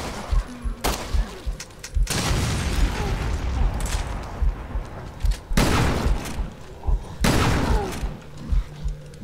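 Heavy booming blasts in Resident Evil Revelations 2 during a boss fight against a bomb-launching enemy, with three big explosions and rumbling debris between them.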